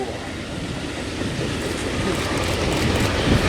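The tail end of a long freight train rolls past close by, a continuous loud rumble of wheels and cars on the rails that builds slightly toward the end.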